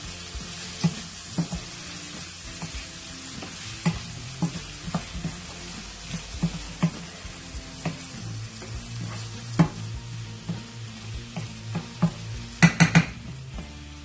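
Zucchini sabzi with red chili flakes sizzles in a pan while a spoon stirs it, giving repeated metallic clinks and scrapes against the pan over a low, steady frying hiss.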